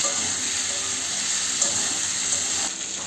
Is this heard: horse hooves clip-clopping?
no